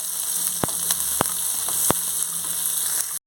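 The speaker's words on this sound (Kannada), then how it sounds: "ದಪ್ಪದ ಒಂದು ಈರುಳ್ಳಿ ಸ್ವಲ್ಪ ಫ್ರೈ ಮಾಡ್ಕೊಳ್ತೇನೆ. ಕಲರ್ ಚೇಂಜ್ ಆಗೋವರೆಗೂ ಫ್ರೈ ಮಾಡ್ತೇನೆ." A thick-cut onion fries in a pan for a brined raw jackfruit palya, giving a steady close sizzle with a few sharp pops and crackles and no talking.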